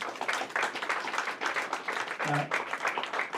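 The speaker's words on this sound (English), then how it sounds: "you deserve a loud and round of applause for being the voice of the community." An audience at an NDP meeting on ethnic media gives a fairly quiet, sustained round of clapping, with a voice briefly audible through it.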